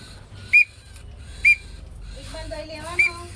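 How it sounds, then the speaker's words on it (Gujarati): Three short, sharp whistle blasts used in bird training, spaced about a second apart and standing out over a low background hum, with a faint voice toward the end. "તમે બર્ડ્સની ટ્રેનિંગ આપો છો તો આ સીટીની આદત જરૂર ફરજિયાત હોવી જોઈએ"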